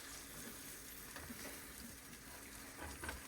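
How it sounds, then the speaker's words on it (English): Sauce being stirred in a frying pan while it sizzles over heat, a steady low frying hiss with soft scraping and stirring movements, close and quiet, with no talking. "Just stir."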